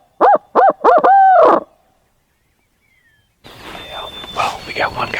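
A handheld hoot call imitates an owl on a spring turkey hunt in Wisconsin river bottoms, a loud series of four close hoots followed by silence, then a voice talking quietly outdoors.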